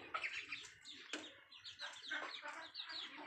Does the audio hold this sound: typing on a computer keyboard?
no